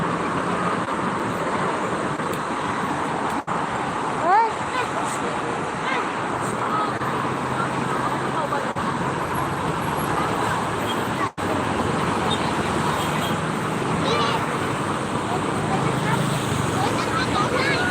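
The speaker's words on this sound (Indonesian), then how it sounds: "KM 58 ya, arah Jakarta cukup macet" Heavy jammed traffic on the toll road toward Jakarta near KM 58, with buses and cars droning and rumbling steadily at close to middle distance, a few sharp clicks and a rising whine, with faint talk underneath.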